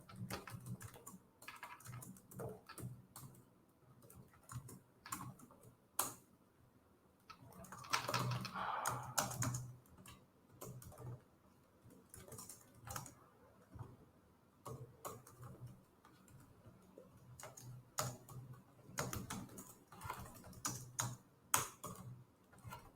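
Code being typed on a computer keyboard: quiet, irregular bursts of key clicks in uneven clusters with short pauses, near and soft, with no talking.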